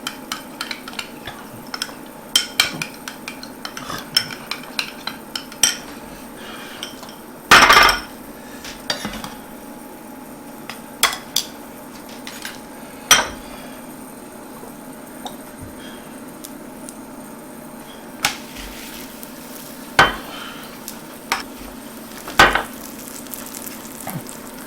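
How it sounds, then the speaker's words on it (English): A utensil stirs sauce in a sizzling pan for octopus tacos with pineapple salsa, giving steady frying hiss, soft squelches and occasional sharp scrapes and clinks against the pan, close up. "go ahead and stir our sauce together here"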